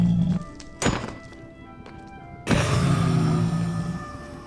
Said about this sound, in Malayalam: ഒരു ബ്ലേസ് നമ്മുടെ മുന്നിലുണ്ട്, ഇവനും കൂടി ഒന്ന് തീർക്കട്ടെ